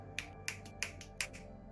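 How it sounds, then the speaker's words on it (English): Four crisp finger snaps, close and loud, in an even rhythm with short gaps and no voices, made at a tabletop roleplaying game session. "I snap my fingers and flip him off"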